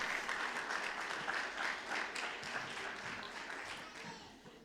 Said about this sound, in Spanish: Les damos un aplauso a estos chicos que hicieron una presentación tremenda